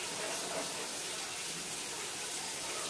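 Aquarium water drains steadily through a Python water change hose, a continuous broadband rush and gurgle like a running tap that holds even and fairly close for the whole stretch, with no talking over it.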